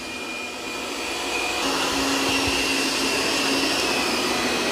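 A Tikom L9000 robot vacuum mopping a floor, giving a steady close whirring drone that grows slightly louder partway through, with no talk.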